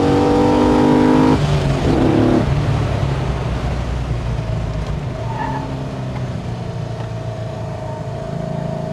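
An LS V8-swapped BMW E46 wagon revs hard and accelerates, the engine note climbing through a gear before settling into a loud, steady drone from inside the car.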